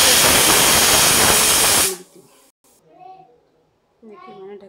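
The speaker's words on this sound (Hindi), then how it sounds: "हम कुकर का ढक्कन बंद कर देंगे और 2 सीटी आने तक का इंतज़ार करेंगे" A pressure cooker cooking vegetable pulao vents steam with a loud, sustained hissing whistle for about two seconds that cuts off abruptly, followed by a voice in a quiet kitchen.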